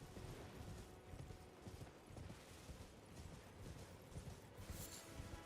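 Hooves of a horse galloping in Elden Ring drum in a steady quick rhythm, faint and low under a dense wash of game ambience.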